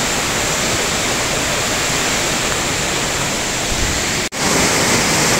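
Rushing water from river rapids and a waterfall in Springbrook National Park, Australia, roars as a loud, constant broadband wash with one brief dropout near the end.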